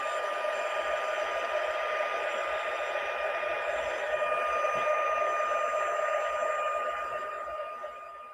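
A heat tool melting embossing powder on paper blows a steady, loud whirring hum with a whiny tone, continuous and close before tapering slightly at the end.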